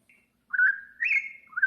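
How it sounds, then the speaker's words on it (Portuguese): A lone bird chirps a few short, clear whistled notes in near silence, bright and close, in three quick rising-and-falling phrases. "O som de um pássaro, gente, que legal!"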